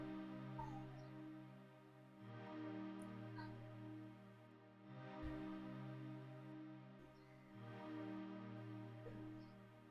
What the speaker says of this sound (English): FM piano just to get some vox and a pad